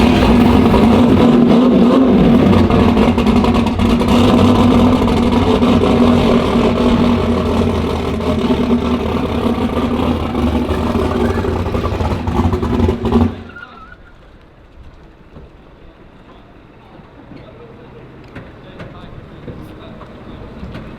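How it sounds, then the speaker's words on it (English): Drag race car doing a burnout at the strip, a loud dense engine roar with tire noise for about thirteen seconds before cutting off abruptly to low background noise, with voices faintly present. "We're gonna go do a burnout."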